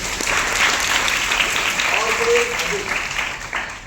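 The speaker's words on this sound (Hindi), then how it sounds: "वेरी गुड, ताली होनी चाहिए मैडम के लिए" A room full of people claps in warm, sustained applause, with a few voices audible underneath.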